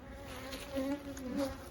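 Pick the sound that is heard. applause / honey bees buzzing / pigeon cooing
honey bees buzzing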